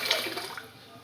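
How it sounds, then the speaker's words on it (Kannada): Water pours briefly and faintly into a pressure cooker holding horse gram in a home kitchen, a short splashing gush that fades within about a second. "ಇವಾಗ ಇದಕ್ಕೆ ನೀರು ಹಾಕ್ತಾಯಿದ್ದೀನಿ."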